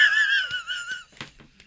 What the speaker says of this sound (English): All that heavy breathing?